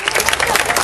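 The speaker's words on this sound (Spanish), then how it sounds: "Un aplauso para Valentina" A crowd at a traditional town festival's child king and queen pageant applauds for Valentina in a short, dense burst of clapping with voices mixed in.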